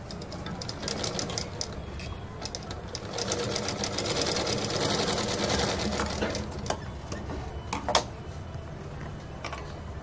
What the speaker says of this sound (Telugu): ఈ విధంగా కుట్టుకోవాలి